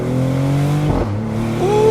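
A Maserati GranCabrio Trofeo engine pulls hard and loud up close, its tone climbing steadily before a brief hesitating gear shift drops the pitch, then it climbs again into the next gear.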